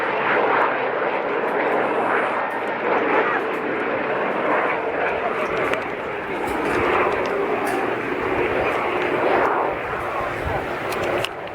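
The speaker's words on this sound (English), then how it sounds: "this aircraft in the hands today of Andrew Whitehouse" A historic Sea King helicopter drones steadily nearby at an air show, a loud sustained roar with an announcer speaking over it throughout.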